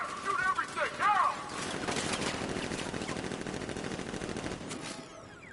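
Militia gunfire in a video game ambush, a dense sustained fusillade of rapid shots rattling for several seconds after a brief whistling sound, fairly loud and continuous before fading.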